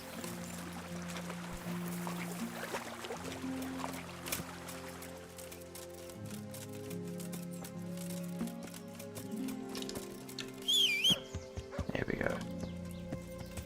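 Horse in Kingdom Come Deliverance moving through bushes, with soft hoof clops and shuffling under someone talking, and a brief whinny-like cry near the end.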